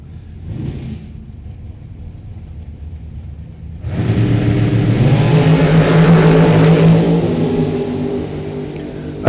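A black dragster on a drag strip launches after a brief low idle, then a loud, rising engine roar that sweeps past and holds before tapering off, heard from close by.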